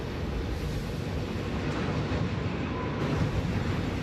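A train from the Satisfactory video game rumbles along in a steady, continuous low roar with no break in its loudness, and no voices are heard over it.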